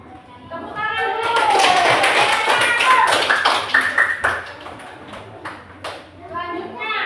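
A primary school class claps hands after a student presentation, a burst of scattered clapping that swells and then fades, with children's voices and chatter mixed throughout.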